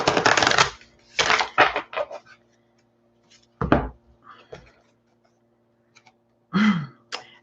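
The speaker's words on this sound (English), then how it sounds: "we're going to go over here and shuffle and shuffle and shuffle and shuffle." Playing cards are shuffled in several quick riffling bursts separated by pauses, close and crisp, with no talking over them.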